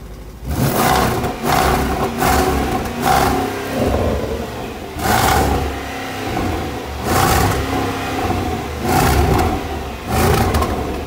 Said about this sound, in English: it's got a switchable sports exhaust, which is just a button in the car you press, and the car just sounds like an animal